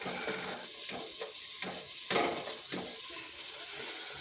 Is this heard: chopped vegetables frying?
yes